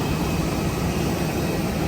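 A SpiceJet airliner at an airport, a loud, steady, unbroken engine roar and hiss that fills the whole stretch without any change.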